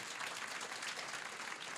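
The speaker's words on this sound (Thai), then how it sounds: "ขอเสียงปรบมือให้เจ้าของทุกท่านครับ" Audience applause from a crowd at a Thai business seminar, a dense steady wash of many hands clapping at once, loud and continuous throughout with no speech over it.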